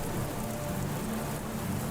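Steady rain falling in a tabletop fantasy game session ambience, a dense even hiss of raindrops on surfaces that stays constant throughout, with no voices or other sounds.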